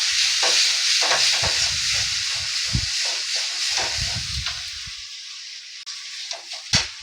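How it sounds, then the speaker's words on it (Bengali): Turmeric sautéed in a pan for soybean curry, a steady bright hiss of frying that fades gradually, broken by a few soft scrapes and stirring knocks, with no talking. "2 চামচ হলুদ দিয়ে দিলাম। দিয়ে এবারে ভালো করে কষিয়ে নেব।"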